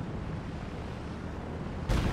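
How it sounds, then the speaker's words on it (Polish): A low, rumbling background breaks into a sudden heavy boom at the very end, a single artillery shot going off in Company of Heroes 2 during a 2v2 match. "Kolejne strzały ze sztuki"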